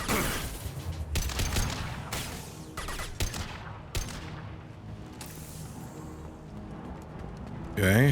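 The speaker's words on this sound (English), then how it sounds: "How are you shooting me through that?" Gunfire in the sci-fi shooter Mass Effect 2: bursts of rapid shots crackle through the first half, then thin out into sparse hits over a steady game-sound bed, with a brief spoken word from a player.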